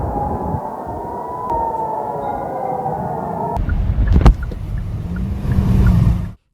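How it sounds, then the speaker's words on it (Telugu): Air raid sirens sound in Bahrain during an Iranian missile attack, a loud sustained wailing tone that holds steady, then breaks off into rougher outdoor noise with a brief sharp burst and a low rumble near the end. "కొత్తగా క్షిపణులు దూసుకురావడంతో బహ్రెయిన్లో సైరన్లు మోగాయి"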